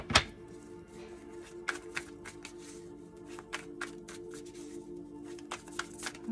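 Tarot cards being shuffled by hand during a reading, heard as a series of soft, crisp riffling taps and flicks spread across the clip, fairly close but quiet, with no talking.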